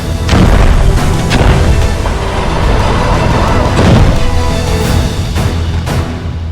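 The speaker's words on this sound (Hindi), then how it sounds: "एक के बाद एक यहाँ पर लगातार एयर स्ट्राइक की आवाज़ अभी हमें सुनाई दी है" Repeated heavy air strike explosions near the Lebanon border, Maydeen area, with loud booming thumps and crashes recurring across the stretch, rumbling over a dense low background.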